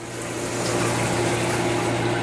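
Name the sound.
water compression pump under sink in underground bunker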